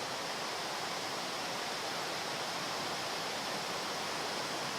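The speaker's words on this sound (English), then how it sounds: "I have a very mini stream, water flowing behind of me, which is very subtle and slow water" A very small, slow stream of water flows outdoors, giving a steady, even rushing hiss that holds at the same level throughout with no voices.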